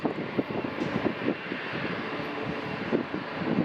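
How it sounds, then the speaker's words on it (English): Airbus A380-800 airliner at LAX, a broad, steady roar of jet engines with a rumbling low end, loud and continuous with faint wind noise and no talk. "Another flight going to Seoul Incheon Airport. 9-year-old A380-800."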